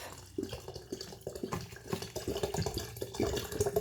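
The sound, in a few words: water being poured into a container for kefir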